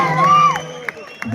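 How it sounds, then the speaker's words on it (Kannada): An audience cheers after a stage performance of Ravana, with a loud sustained whoop rising over crowd noise and voices, brief and close. "ಅವರ ಶ್ರಮಕ್ಕೆ ಇನ್ನೊಂದ್ಸರಿ ಜೋರಾಗಿ ಚಪ್ಪಾಳೆ ಬರಲಿ."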